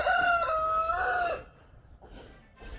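A rooster crows loudly and close by in one long call, followed by quieter background noise and faint rustling.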